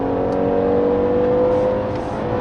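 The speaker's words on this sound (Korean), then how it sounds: "가속을 할 때 RPM을, 엔진 회전수를 높일 때 변속 레버를 통해서 미세한 떨림이 전해져 옵니다" A sixth-generation Hyundai Grandeur with an 8-speed automatic transmission revs while accelerating, giving a steady, continuous engine drone with a smooth tonal hum that holds evenly throughout.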